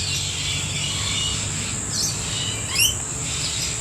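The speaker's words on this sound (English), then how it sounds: "They're the biggest brained of all the birds. And they have such complex language." Blue-faced honeyeaters and lorikeets call at a bird sanctuary, a few short sharp chirps and squeaks rising over a steady high insect-like hiss and low background noise.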